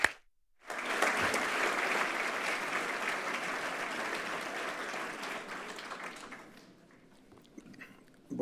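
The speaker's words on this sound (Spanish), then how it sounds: "Un aplauso, por favor." A conference audience at a cultural presentation breaks into sustained applause that starts abruptly, holds steady for several seconds, then thins out and fades.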